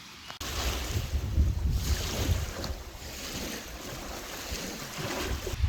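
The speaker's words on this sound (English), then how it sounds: "It's a little breezy out this morning, and the water's a little choppy" Brisk wind buffeting the microphone over choppy lake water in northern Idaho, a continuous rushing roar with lapping waves underneath, fairly loud and steady throughout.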